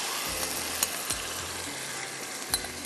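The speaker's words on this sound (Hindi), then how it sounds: "अब इसको मैं हाई फ्लेम पे करूँगी फ्राई" Chicken fries in half a cup of cooking oil over a high flame with a loud, steady sizzle, broken by a few soft knocks of stirring.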